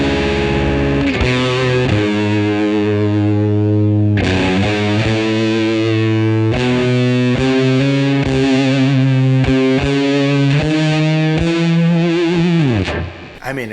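An electric guitar runs through a Gokko fuzz pedal, thick, compressed and broken up, as sustained chords and riffs play loud and up close without a pause until a brief drop at the end.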